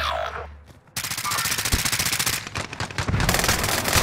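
Rapid automatic gunfire from the Call of Duty: Modern Warfare video game rattles in dense, loud bursts after a short lull, continuing almost without pause to the end.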